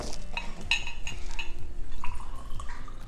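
Tito's vodka poured into a cocktail shaker while an apple martini is being made, heard as a close, continuous liquid trickle with small drips and glassy clinks over about three seconds, with no talking.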